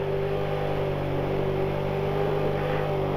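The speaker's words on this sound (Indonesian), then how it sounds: "Dengerin suara mesinku. Kita benar-benar mengandalkan rem mesin." A car engine drones steadily at a constant pitch, a continuous low hum with a faint whine, engine braking while rolling down a steep road between Tirtomoyo and Jatiroto, Wonogiri.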